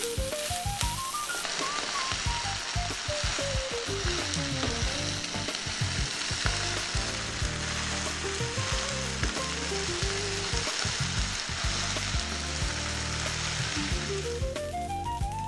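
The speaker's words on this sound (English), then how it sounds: "That's our rice frying." Steady, loud sizzling of rice frying in a pan with cilantro, with stirring scrapes throughout and a faint background melody weaving in and out.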